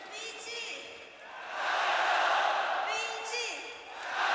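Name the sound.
arena crowd cheering for VG at Dota match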